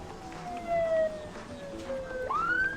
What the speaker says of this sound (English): As the ambulance comes, it's getting here pretty quick.